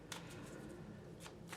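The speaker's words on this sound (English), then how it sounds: "I've pre-shuffled your cards, so I'm just going to do a really quick shuffle here." A very brief, quiet riffle of tarot cards being shuffled by hand, with a few soft bursts of flicking cards over a low background hum.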